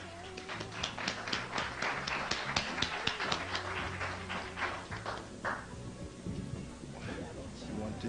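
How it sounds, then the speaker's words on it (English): An audience claps to welcome the speaker. Dense, close applause rises in a fast patter of many hands for several seconds, then thins out toward the end. There is no clear talking. "Let's bring her on with a round of applause."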